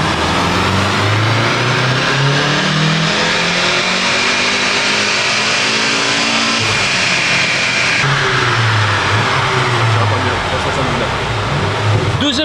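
Volkswagen Golf 7R engine revving hard on a dyno, a loud sustained roar with rising and falling harmonics as it climbs through the revs, briefly dipping near the midpoint before pulling again, with voices faintly under the noise.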